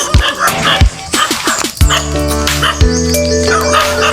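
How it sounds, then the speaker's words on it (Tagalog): Dogs bark and yip close by in quick bursts, then a long, loud sustained howl or whine; several animals overlap in a noisy, agitated outburst. "May mga aso guys"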